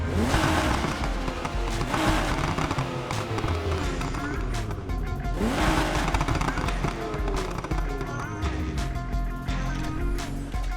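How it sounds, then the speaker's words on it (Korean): Nissan GT-R with its VR engine in the racing game Need for Speed Heat, a loud continuous engine roar that rises and falls through gear changes, with swelling revs around the third and sixth seconds, and busy game sound layered throughout. "지금 듣고 계신 VR 엔진을 바꿔보죠."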